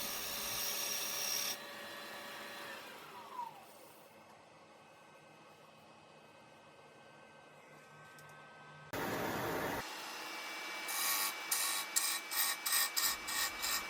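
A gouge cuts a wooden bowl spinning on a lathe with steady bevel contact, giving a continuous rasping, scraping whir that pauses and resumes, ending in a series of short rhythmic cutting bursts.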